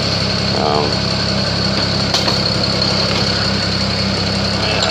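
A BMW 335i engine runs close by after a belt tensioner and pulley replacement, with a steady, buzzing idle and a faint rattling rhythm, loud and unbroken throughout.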